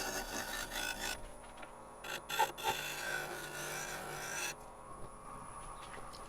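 Highly figured English walnut being shaped with a gouge on a wood lathe, giving a steady, close rasping cut that pauses briefly and then resumes before trailing off.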